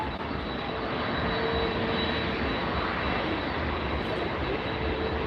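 A jet airliner with purple cowlings arrives close overhead at Miami Airport, its engines making a loud, steady broadband roar that fills the whole clip without letting up.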